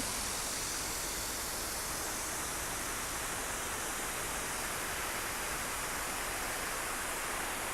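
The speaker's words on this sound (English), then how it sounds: "The water sounds beautiful, doesn't it?" Steady, loud rush of falling water from a waterfall on Cheonggyecheon stream in Seoul, a dense continuous roar with no breaks and no voices.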